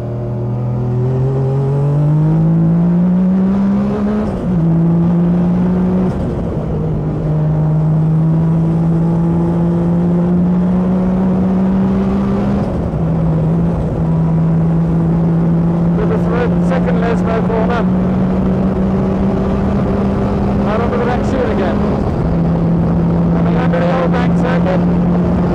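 A 1984 World Sportscar Championship race car's engine drones loud and steady for the whole stretch, pitch climbing and dropping with each gear change through the corners, with wind buffeting the microphone throughout.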